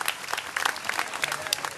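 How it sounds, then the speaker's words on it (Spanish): Crowd at an Easter fair expo in Tuzantla applauding for the girls, a steady dense round of clapping with sharp individual claps standing out, close and continuous. "el aplauso para las niñas"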